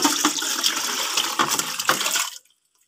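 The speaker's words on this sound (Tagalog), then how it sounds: "Isalin nga natin sa mas malaking lalagyanan para malagay na natin ang kanilang mga gulay o sahog." Pork sinigang soup poured from one pot into a larger pot: a steady, close splashing pour of liquid that runs for about two seconds, then stops abruptly into silence.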